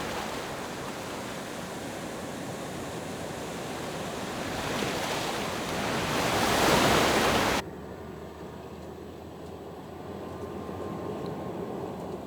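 Ocean surf washes in with a steady roar that swells to a loud crash of breaking waves, then cuts abruptly to a quieter, calmer stretch of sea with no voices.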